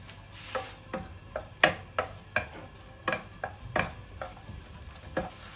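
Ginger, garlic and spring onion frying in a pan over medium heat, a quiet sizzle under repeated sharp scrapes and clinks of a utensil stirring against the pan, no voices.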